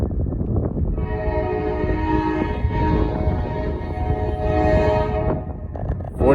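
A southbound Norfolk Southern freight train carrying a high and wide load sounds its horn in long sustained blasts over the steady rumble of passing railcars, loud and close throughout.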